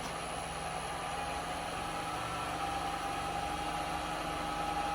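A wood lathe spinning smoothly at about 1236 rpm gives a steady, even hum with no rattle, close and constant throughout.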